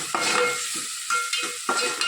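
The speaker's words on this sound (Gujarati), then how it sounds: "સરસ બધું આપણે મિક્સ કરી લઈએ." A spoon stirs methi dal with hing, coriander-cumin powder and salt in a pan, making a few scraping strokes over a soft, steady sizzle, close and fairly quiet, with no talking.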